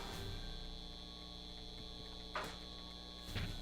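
A dangerous-looking amplifier hums steadily in the Back to the Future adventure game, a constant electrical drone with faint ticks and two brief louder bumps, no talking.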